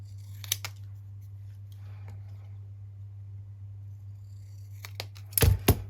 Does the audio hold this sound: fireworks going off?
no